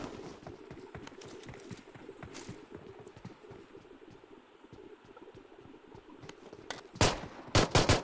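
Gunfire in the BGMI mobile battle-royale game, with a low rapid rattle of distant shots running under faint game ambience, then a few louder, sharper bursts near the end.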